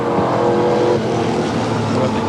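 Racing sedans in a 1988 sports sedan race roar through the infield at Sandown, a loud continuous engine drone with shifting revs filling the whole moment.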